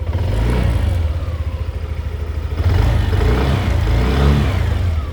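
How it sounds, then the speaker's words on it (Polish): A 2025 Yamaha XMAX scooter engine putters steadily, then revs up twice as the throttle opens, with rattling and a low pulsing idle. "gdy jesteśmy na skuterze i odkręcamy trochę manetkę gazu"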